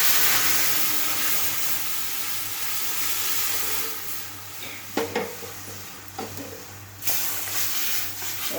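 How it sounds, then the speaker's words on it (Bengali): Onions frying in a pan in a home kitchen, a steady broad sizzle and hiss running throughout with a few sharp clatters of stirring near the end, no talk. "লাল লাল হয়ে ভাজাটা হোক"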